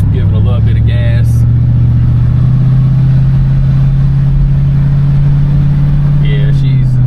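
A 1977 Lincoln Continental's big engine rumbles loud and close at a steady idle that swells slightly as gas is applied, with a few brief voice sounds at the start and end.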